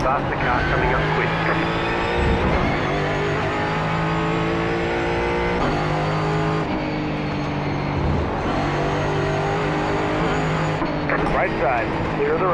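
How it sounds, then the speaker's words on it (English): Race cars roar past in the iRacing sim, a Mustang GT4 at Charlotte Roval, with a continuous droning engine note and faster cars closing in, all under steady commentary from a driver. "Faster car coming up quick."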